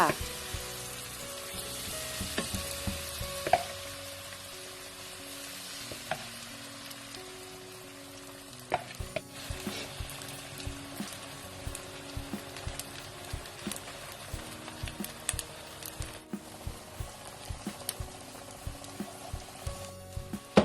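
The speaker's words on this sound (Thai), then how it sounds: "เรามาทอดหอยกันเลยจ้า ตั้งกระทะแล้วใส่น้ำมัน" Shellfish batter sizzles and crackles in hot oil in a pan, a steady quiet frying hiss scattered with sharp little pops and spits.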